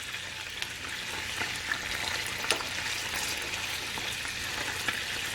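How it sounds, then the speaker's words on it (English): Ground beef burger patties, roughly 80/20 fat, frying in oil in a pan with a steady, close crackling sizzle and scattered small pops, continuous and fairly soft, with no talking. "That's on a full sizzle."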